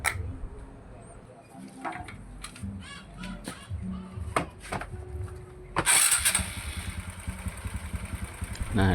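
A Honda Karisma motorcycle with a new battery fitted is cranked with a few sharp clicks and attempts, then the engine catches and runs loudly up close, settling into a steady idle.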